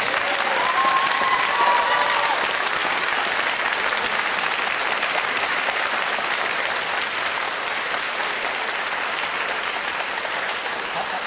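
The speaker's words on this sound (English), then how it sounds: "I would ask the applauding audience" A studio audience at a televised political debate applauds loudly and continuously, a dense wash of clapping that holds steady for the whole stretch with no speech over it.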